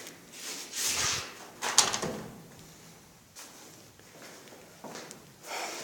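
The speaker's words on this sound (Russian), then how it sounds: "мы открываем дверь" Indoor door being opened in a room under renovation, a few soft handling knocks and a brief latch-like rattle near the mic, spread over several seconds without talk.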